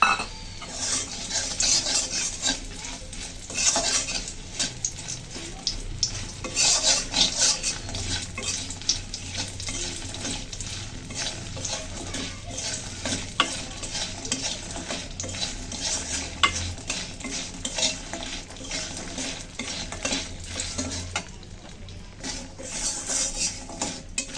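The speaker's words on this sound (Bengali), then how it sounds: "এখন ওই তেলের ভিতরে আমি কুমড়ো বড়িগুলো ভেজে নেব, দিয়ে দিলাম।" Pumpkin lentil dumplings (kumro bori) fry in the same oil just used for fish, a steady soft sizzle beneath repeated stirring and scraping of a utensil against the pan, with occasional clinks and no talking.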